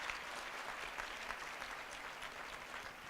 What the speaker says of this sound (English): Another round of applause for ourselves,